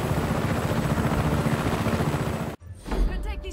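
A helicopter in the video game Just Cause 3 gives a loud, steady rotor thump and engine roar that cuts off abruptly, then resumes with a burst of noise.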